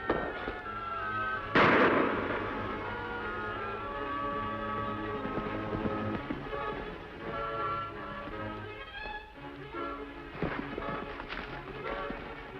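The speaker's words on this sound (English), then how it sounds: "Shots came from this direction." One sharp gunshot cracks out early over a steady musical score, followed by a few fainter percussive hits, in an old western setting.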